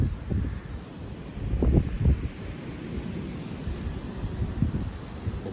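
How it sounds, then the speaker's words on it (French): Strong gale-force wind gusts around 75 km/h roar and buffet the microphone on a stormy, snowy New Year's night, rising and falling in heavy low rumbling surges with no one speaking. "Là, ça souffle bien. On a des rafales à 75 là."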